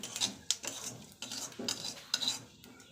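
Cumin seeds fry in a kadai while a utensil stirs them, giving sharp metallic clinks and scrapes against the pan over a soft sizzle, with no voices.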